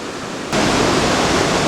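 A waterfall near Helen, Georgia, fed from two separate sources: a steady broadband rush of falling water that jumps louder after half a second, close and continuous, no voices.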